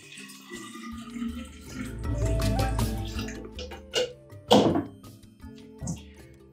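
Half a liter of water poured into a jar for homemade yeast, a rushing pour lasting a couple of seconds followed by several hollow glassy thunks and clinks close by, with no talking.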